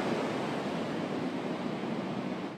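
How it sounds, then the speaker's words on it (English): Big ocean waves rolling under the OB Pier make a steady, loud, broadband wash of surf, continuous and close for a few seconds, with no voices. "Big waves rolling under the OB Pier."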